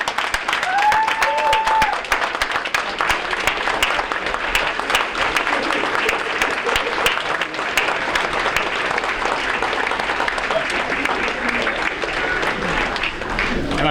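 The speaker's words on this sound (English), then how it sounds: "just stand up and give him a round of applause" A standing audience applauds at a fall sports awards night, with a dense, sustained stretch of clapping that fills the hall from start to finish and a voice heard briefly early on.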